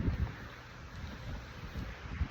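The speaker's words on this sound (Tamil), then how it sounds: "கூட வந்து சேர்த்து காற்றுமே வீசிக்கிட்டு இருக்கு" Wind gusting across an open microphone outdoors, low rumbling buffets swelling and easing steadily, with no voices.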